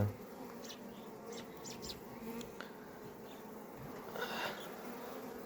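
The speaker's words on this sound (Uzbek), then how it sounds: "Bu Samarqandda asalarisi bu" Honeybees buzzing at a hive in Samarkand, a dense steady drone close by, with individual bees flying past the microphone now and then.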